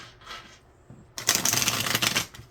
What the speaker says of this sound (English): Let's get one more shuffle here.